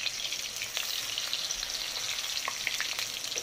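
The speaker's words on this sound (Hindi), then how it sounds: "मीडियम फ्लेम पे हम लोग इसको फ्राई करेंगे।" Raw mince kebabs frying over a medium flame in a pan, a close, steady crackling sizzle with scattered pops and spits, heard alone without voices.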